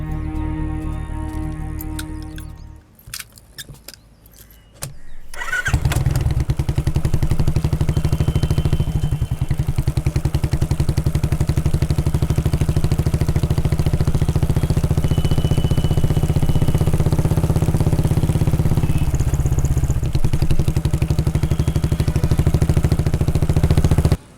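A motorcycle being serviced runs its engine at a steady, loud idle for about twenty seconds after a short quieter stretch of clatter, a close, low, throbbing drone with no talk over it.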